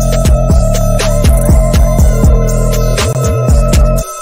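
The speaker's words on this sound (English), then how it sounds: "The distortion in your 808 is basically going to fill the mid and the high frequency." A distorted 808 bass made in FL Studio hits in a quick, steady rhythm, each note booming low and gliding down in pitch, with a gritty, saturated edge that fills the mids and highs.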